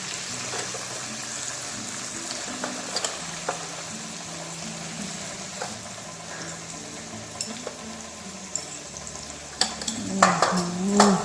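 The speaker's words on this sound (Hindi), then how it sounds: "सब्जी को मैंने फ्राई कर दिया है। प्याज, हरी मिर्च, लहसुन डालने के बाद सारे मसाले हैं" Vegetables with onion, green chili, garlic and dry spices fry in a pan. A quiet sizzle runs throughout, broken by occasional utensil clicks and scrapes, with a louder clatter of stirring near the end.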